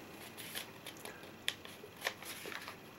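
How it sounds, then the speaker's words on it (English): A single paper dollar bill being folded in half, giving soft crinkles and a few sharp crackles and taps spread over a few seconds, close and fairly quiet, with no talking. "we're going to fold this bill in half."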